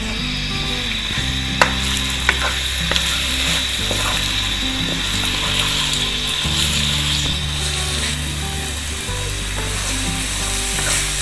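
Minced meat (qeema) frying in a pan while being stirred, a steady sizzle with sharp scraping clicks of the spoon, near and continuous under a low background hum, no talking.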